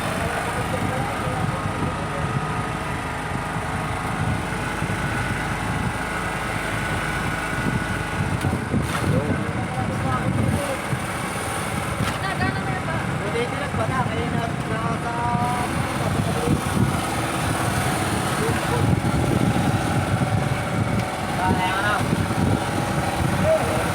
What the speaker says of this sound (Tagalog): Kaya pala nagbuhay na ng makina.